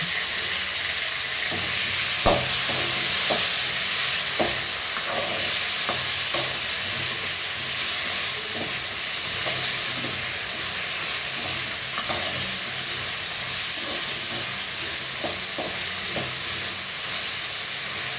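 Small onions, tomatoes and coconut sautéing in a pan give a continuous hissing sizzle, with scattered spatula scrapes and taps throughout, busier in the first half.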